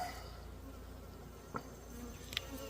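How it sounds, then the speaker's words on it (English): A steady, dense buzzing of many agitated honey bees from an opened hive fills the air throughout, with a couple of brief louder knocks or thumps partway through. "There's just too many bees, and I done aggravated them too much"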